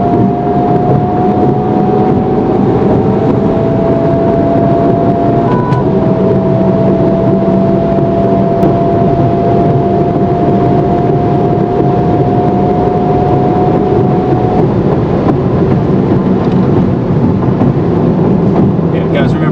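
A stock 2023 Honda Civic Type R FL5 accelerates hard with no-lift shifts, its loud engine drone climbing steadily in pitch, briefly dropping at two gear changes before rising again, heard from inside the car.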